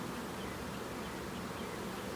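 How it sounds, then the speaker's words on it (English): A dense, continuous drone of many honey bees buzzing from an open hive, loud and close with no pause. "There's a ton of bees. Like the noise they make is just so loud."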